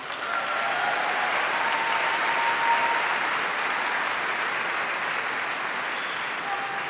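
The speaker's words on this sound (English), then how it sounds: "give them a round of applause" A large commencement crowd at the CUNY Graduate Center claps for graduates' families, a broad, even wash of applause that holds steady throughout without talk.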